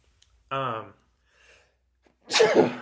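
A single sharp sneeze bursts out near the end, preceded by a brief vocal sound and quiet pauses.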